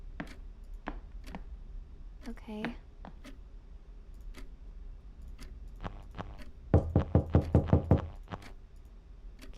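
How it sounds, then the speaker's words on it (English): A clock ticks steadily in the horror video game Mycopsychosys, a string of sharp, evenly spaced clicks that closes on a louder burst of knock-like beats, with a voice briefly speaking over it. "You can hear a clock."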